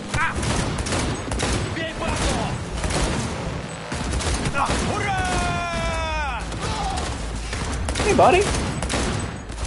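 Rapid bursts of gunfire in the video game Cyberpunk, loud and continuous across the clip, mixed with shouted voices and game dialogue over the shooting.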